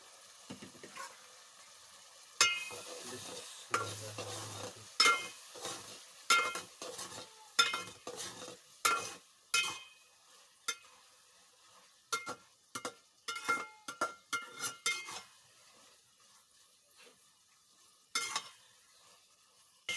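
Tomatoes for dal sizzle faintly in a pan while a spoon stirs and scrapes repeatedly, producing a string of sharp clinks and scrapes in irregular rhythm over a quiet background.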